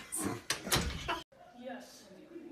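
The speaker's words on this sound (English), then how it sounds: "Close the door, please." An office door bangs shut amid overlapping talk, a couple of sharp knocks and thuds before a brief silence, then low murmuring voices.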